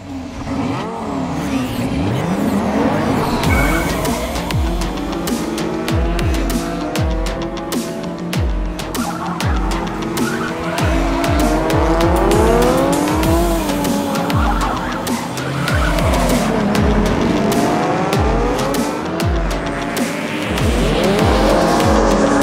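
Diecast toy cars race down a track in a tournament heat, a continuous rolling roar with squealing, skidding tones and clattering bursts throughout, loud and without voices.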